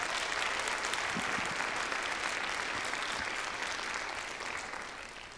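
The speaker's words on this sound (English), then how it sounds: "Can we have another round of applause for grades 4 through 5?" Audience applause for young students at a school oratorical competition, a long, steady wash of clapping from a large crowd that slowly fades toward the end.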